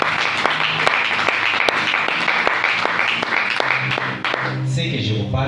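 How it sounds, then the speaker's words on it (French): A church congregation applauds and cheers, with a dense, continuous wash of clapping and raised voices. Sharp individual claps and rhythmic beats run through it for several seconds, and a voice rises near the end. "Est-ce qu'on peut acclamer très fort pour la gloire?"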